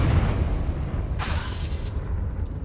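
A Confringo blasting spell explodes in the Hogwarts Legacy video game, one brief hissing burst over a steady low rumble, with no talking.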